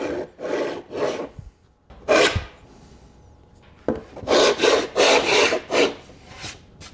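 Rhythmic rasping strokes from a Stanley Surform shaping old barn wood, close and loud, in a run of back-and-forth passes, a short pause, then a faster series of strokes.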